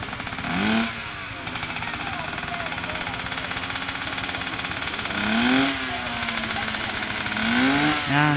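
A motorcycle engine on a motocamping ride runs unevenly after a cold start, a steady mid-pitched idle with a few rising revs, while people talk nearby.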